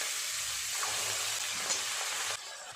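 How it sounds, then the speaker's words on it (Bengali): Giant river prawns fry in oil that has turned thick from the prawns' own fat, a soft, continuous hiss and crackle, fairly faint, with no speech. "বাকি চিংড়ি মাছগুলো একইভাবে ভেজে নেব।"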